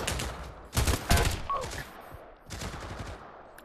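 P90 gunfire in the VR shooter Pavlov VR, with rapid bursts of shots in a few clusters separated by short gaps, loud and close, with no talk.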